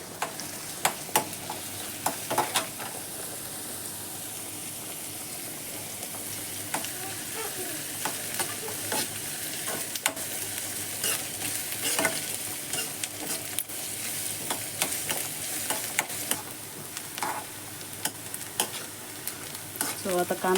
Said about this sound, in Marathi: सो आतां कांदो जालो भाजून